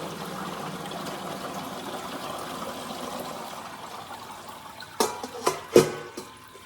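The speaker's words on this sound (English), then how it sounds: "I'm going to do is go ahead and pour it back into the bucket." Apricot brandy juice pours back into a bucket, a steady soft trickle of liquid followed near the end by a few louder splashy pours.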